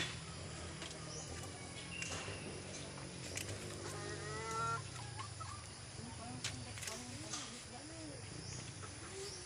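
Chickens cluck softly in a yard, scattered short calls over faint background noise, with a few brief rising calls and a voice talking quietly nearby.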